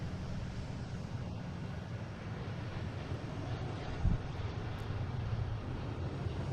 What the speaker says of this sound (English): here's that JetBlue heading to Buffalo